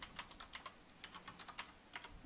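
Steady typing on a computer keyboard, a quick run of soft, fairly quiet keystrokes in irregular bursts, with no talking.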